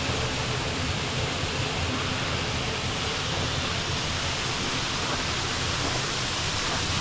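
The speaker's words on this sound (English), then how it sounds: "you could hear the waterfall." Steady broadband roar of Munising Falls, a winter waterfall partly encased in ice, heard close and continuous with no breaks or voices.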